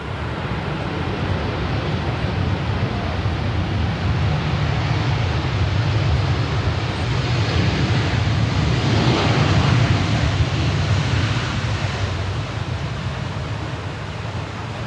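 A Cebu Pacific airliner moving at Sydney Airport, its distant jet roar swelling to a peak and easing off again over steady wind and microphone buffeting, with no talk.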